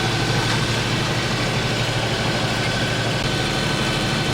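Tour boat engine running during a boat trip in Riga, Latvia, a loud, steady low diesel rumble and vibration that holds continuous and close throughout.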